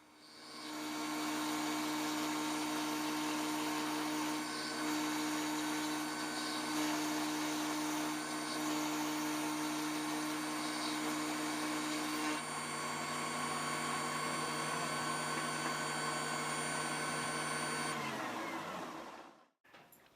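A Shopsmith overhead router whines steadily while cutting a half-inch-deep groove, a loud continuous motor drone with a sustained tone that drops off and stops near the end.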